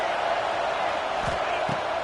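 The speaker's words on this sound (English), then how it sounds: "This crowd bringing the energy and noise early." Dense roar of a college football stadium crowd at an Ole Miss versus NC State game, a steady loud wash of cheering with a couple of low thuds underneath.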